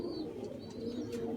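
Pigeons coo close by in a loft, soft low rolling calls over a faint background murmur, with a few thin chirps mixed in.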